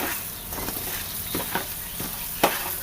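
Coriander seeds dry-roast in a pan, giving a soft, steady rustle with several gentle scraping strokes and light rattles spaced across the clip.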